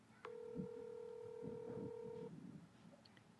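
A telephone number being dialed: a single steady electronic tone lasting about two seconds, faint and close, over soft rustling and low background noise, followed by a few tiny beeps.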